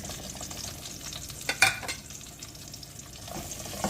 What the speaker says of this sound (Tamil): வெங்காயத்தை சேர்த்துட்டு நல்லா இதை கிண்டி விடுங்க.